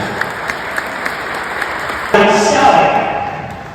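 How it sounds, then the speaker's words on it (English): Audience applause at a GNA School District Athletics Wall of Fame ceremony in Nanticoke, breaking out loud and dense partway through after faint sparse taps, then continuing steadily. "How about a nice round of applause for Holly with Cabbage"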